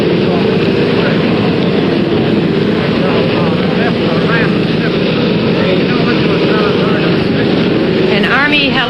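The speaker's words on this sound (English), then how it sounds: "An Army helicopter has just landed. It's making a great deal of noise." A US Army helicopter that has just landed roars loud and steady for several seconds, its engine and rotor noise filling the air, with a broadcast voice speaking over it.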